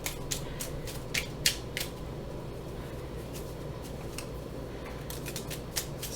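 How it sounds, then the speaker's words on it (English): A deck of reading cards being shuffled, heard as quiet, papery riffling bursts that cluster near the start and again near the end, with a steady low room hum underneath. "Some more cards than I usually shuffle."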